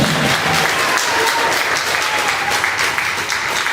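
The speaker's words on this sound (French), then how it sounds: "Applaudissez chaudement, s'il vous plaît" Steady, dense applause fills a graduation ceremony hall at EPAIN de Saint Marc as the top-ranked graduate is honoured, a loud, unbroken wash of many hands clapping together throughout.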